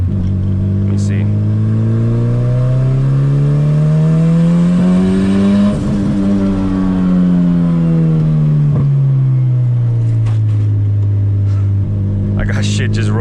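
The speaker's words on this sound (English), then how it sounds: "I'm gonna try a first gear pass and see if it does that same thing." Turbocharged Honda CRX pulling hard through first gear, engine note climbing steadily to a peak around the middle, then falling back as it settles; loud, close, continuous in-cabin drone with faint rattles and no talking.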